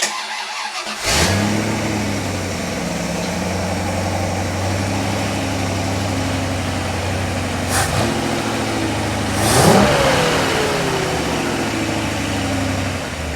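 A rebuilt Ford 390 FE V8 cranks and catches, then settles into a steady, loud idle close by, with a couple of brief throttle blips partway through.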